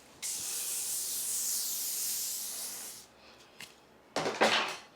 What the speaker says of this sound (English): I'm gonna be spraying my Behind the Zone flipped out spray